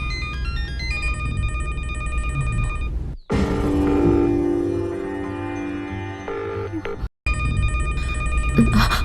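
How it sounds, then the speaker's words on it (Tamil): A telephone rings repeatedly with a bright, tonal electronic ring pattern that carries on for several seconds, cut by two short breaks of near silence, and no one answers. "போன் ரிங் ஆகுதுங்க, ஆனா போனை எடுக்கவே மாட்டேங்கிறான்"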